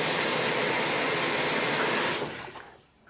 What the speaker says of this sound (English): our washer is just about full of water again, so let's go ahead and capture what happens